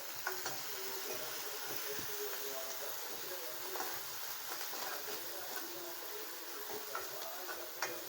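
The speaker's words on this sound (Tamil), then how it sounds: "கொஞ்சமாக வெங்காயம் வதங்கட்டும்." Onions sautéing in a pan for a home-cooked greens kootu, giving a steady soft sizzle with light ticks and occasional stirring scrapes throughout, fairly quiet and without talk.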